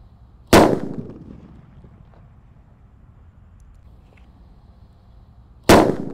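A firecracker set off inside a jumbo tissue roll gives two sharp, loud, close bangs about five seconds apart, each decaying quickly, with near silence between them.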